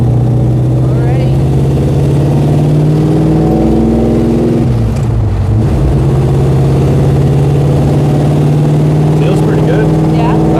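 A Rum Runner car's not-yet-warm engine runs steadily while driving, a loud continuous drone with a brief dip in pitch midway, then settling back to a steady hum.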